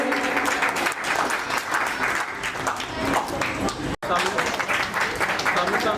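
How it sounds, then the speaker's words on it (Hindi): An audience claps loudly to welcome guests onto the stage, sustained applause with a brief cut, while a speaker talks over the clapping. "अभी जोरदार तालियों के साथ स्वागत करेंगे।"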